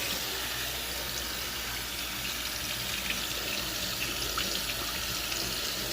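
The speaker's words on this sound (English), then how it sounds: "So I'm going to go ahead and wash this bowl, and let's get all of that out of there" Tap water runs steadily into a kitchen sink while a bowl is washed after making homemade pepperoni pizza, a continuous close hiss with faint splashes and no talking.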